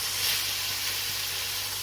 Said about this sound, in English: I am going to add my onions now.